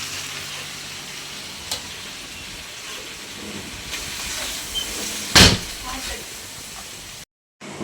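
Chilli powder being stirred into a curry in a pot at a temple festival cooking session, a continuous sizzling, scraping texture with occasional louder clanks of the spoon against the vessel.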